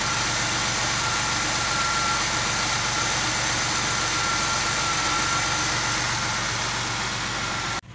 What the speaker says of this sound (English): So I've had the car running for some time now